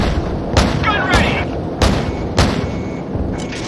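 Gunship cannon fire in the video game Call of Duty 4 booms out as heavy, evenly spaced single shots, four loud thuds over a little more than three seconds, with radio chatter in the background.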